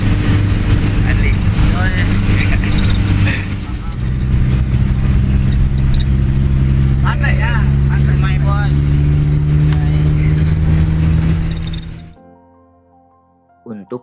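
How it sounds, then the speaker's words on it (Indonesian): Steady engine rumble and road drone fill the inside of an angkot minibus heading to the Palutungan base camp on Mount Ciremai, with people talking over it before the sound cuts off abruptly near the end. "Sekarang lagi di angkot menuju base camp Palutungan."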